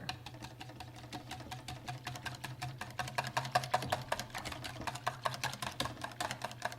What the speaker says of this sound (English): you just whisk it all together